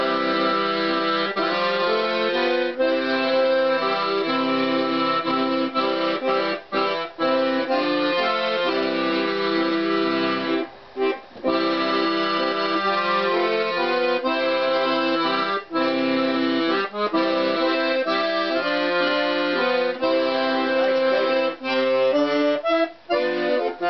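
An Italian accordion made in 1952 plays a waltz, sustained reedy chords and a lilting melody continuing without a break, full and close, with no voices.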